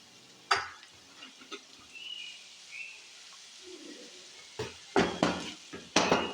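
Onions and salt are stirred in a metal cooking pot, with a few scattered scrapes and then a quick cluster of sharp clanks and scrapes near the end, close and fairly quiet.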